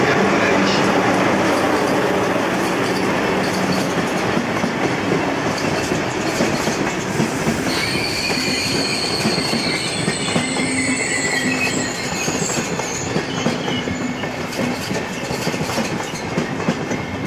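A German Intercity train pulls into a station, wheels squealing on the rails with rhythmic clickety-clack and rumbling carriages, loud and close, brakes screeching in drawn-out tones.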